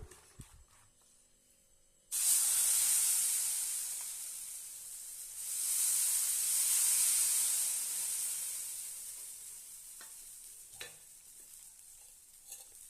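Green gram and ragi bun dosa batter sizzles loudly on a hot pan, a steady frying hiss that swells, eases, then rises again before fading slowly, with no voices.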